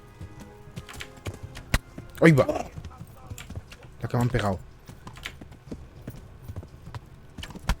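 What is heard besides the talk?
horse hooves clip-clopping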